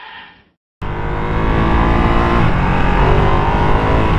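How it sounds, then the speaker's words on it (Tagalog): A 2023 Ducati Streetfighter V2 Desmo, a 153-horsepower motorcycle, bursts into a loud, sustained rev after a brief silence, its engine roaring continuously and close by with no talking. "2023 Ducati Street Fighter V2 Desmo engine, 153 horsepower."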